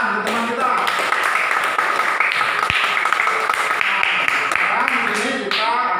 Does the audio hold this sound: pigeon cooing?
no